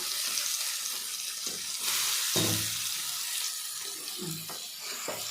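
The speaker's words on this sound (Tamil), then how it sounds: "கத்திரிக்காய் போட்டோம் கிளறிக்கலாம் நல்லா கிண்டிடணும்" Brinjal pieces fry in masala for a brinjal thokku, sizzling steadily with a loud wash of hiss while a spoon stirs and scrapes through the pan in uneven bursts.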